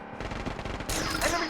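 Rapid automatic gunfire in the shooter video game Blood Strike, a dense crackling stream of shots that grows louder and heavier partway through the brief burst.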